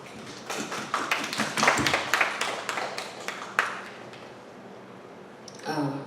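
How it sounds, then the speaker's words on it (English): An audience at a talk on engaging people with mobility disabilities breaks into applause, a burst of scattered claps that peaks early, thins out and fades, followed by a brief murmur. "I think that deserves a round of applause"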